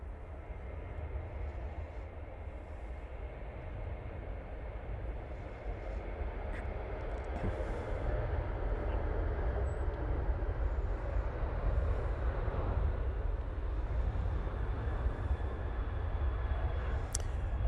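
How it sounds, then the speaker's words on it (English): Ryanair Boeing 737-800 departing Manchester Airport, a distant, steady jet engine roar that slowly builds in loudness and holds as the plane takes off, with no talking. "Ryanair 737-800 now departing"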